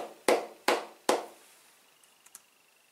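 Three sharp hand claps ring out at an even pace in a quiet room, followed by a couple of faint taps.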